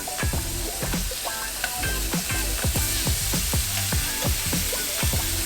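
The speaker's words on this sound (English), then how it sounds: "And then we sear it, seasoned side down. Your pan has to be smoking hot." Steak searing seasoned side down in a smoking hot pan: a loud, steady sizzle with repeated sharp clicks and scrapes of utensils against the pan, no talking.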